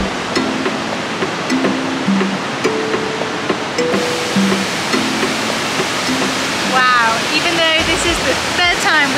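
A steady, roaring rush of falling water from Iguazu Falls fills the whole clip, with voices and faint tones occasionally rising above it.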